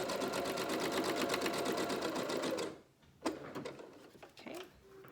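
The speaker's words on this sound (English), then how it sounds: "here on this side is where you want to do the zigzag stitch, but you want to actually overlap the fabric" A home sewing machine running a zigzag stitch over overlapping fabric edges for a homemade face mask, a steady close whirring hum for nearly three seconds before it stops, followed by a few quiet handling clicks and rustles.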